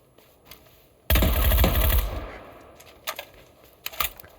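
Suppressed gunfire in a video game: a dense burst of rapid muffled shots lasting about a second, followed by a few scattered clicks and softer shots.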